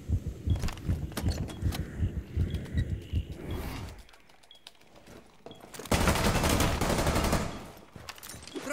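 In a tactical shooter video game, quick bursts of gunfire crackle early on, then after a quieter gap a flashbang grenade goes off in a loud, sharp blast that trails into a harsh ringing wash.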